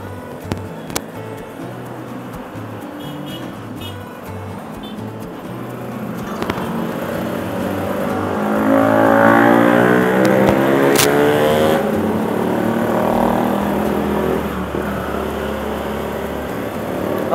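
A car cruises along a road near Cikampek in holiday traffic, a steady engine hum and tire roar that swells slightly in the middle, heard from inside the vehicle without talk.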